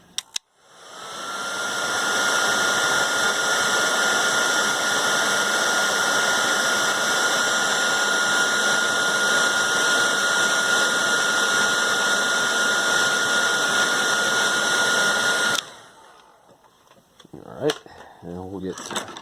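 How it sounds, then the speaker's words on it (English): Roaring steadily and close, a heat gun blows hot air onto a Garrard turntable part for about fifteen seconds, then shuts off and leaves quieter handling clatter. "so let me get the heat gun"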